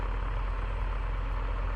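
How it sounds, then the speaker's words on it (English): Cessna 182Q piston engine idling on the ground in Microsoft Flight Simulator, a steady, loud, low rumbling drone heard alone with no voices. "throttle, bring it all the way to idle"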